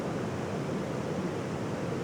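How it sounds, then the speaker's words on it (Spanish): Rough sea surf crashes steadily and loudly, a continuous broad roar of breaking waves with no talking over it. "Está el mar fuertito hoy, ¿eh?"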